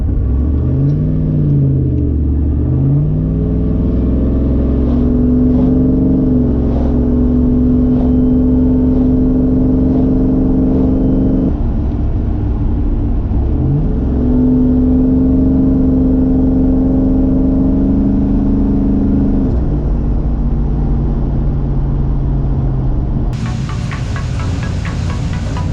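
A turbocharged LQ9 V8-swapped Nissan 240SX drives under moderate throttle, its engine a steady close rumble with rising revs and gear changes, then a brief hiss near the end.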